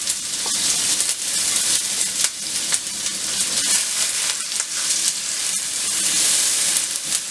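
Chopped onions sizzle loudly in hot oil with garam masala, a dense, continuous frying hiss with small crackles and stirring, close up, with no talking.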